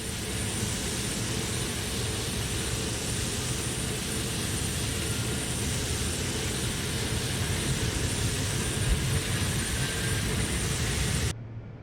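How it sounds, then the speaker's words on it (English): Steady, droning C-130 aircraft engine noise in a flight simulator game, with a low propeller rumble and a constant high whine, holding level throughout before cutting off abruptly at the end. "Just listen to the engine."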